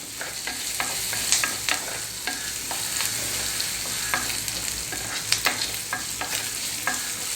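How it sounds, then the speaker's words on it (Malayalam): Chopped broad beans (avara) stir-fried in a pan for thoran, with a steady close sizzle broken by repeated scraping and stirring clicks throughout, no voices. "നമുക്കിതിലേക്ക് ചെറുതായി അരിഞ്ഞു വെച്ച അവര ചേർത്ത് കൊടുക്കാം."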